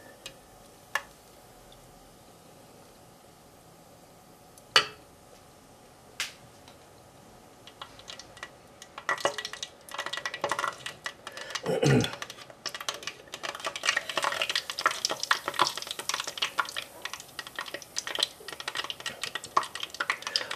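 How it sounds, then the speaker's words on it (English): Scotch eggs lowered into a small deep fryer: after a few isolated clicks, a dense crackling sizzle builds and keeps popping irregularly, close and moderately loud, with no voices. "Now they're to be fried at a medium temperature."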